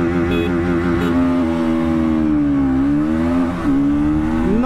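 A KTM Duke 200 and a 2024 Bajaj Pulsar NS 200 BS6 race each other in a drag race, their engines droning loudly and continuously with a steadily rising pitch and a brief dip like a gear change near the end.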